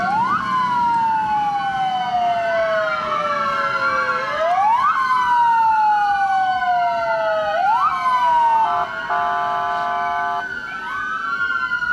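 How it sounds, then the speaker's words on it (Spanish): About ten ambulances sound their sirens together during a night protest, loud wailing tones sweeping up and down repeatedly and overlapping, with a steady yelp-like stretch near the end. "Lo que ustedes escucharon son ambulancias"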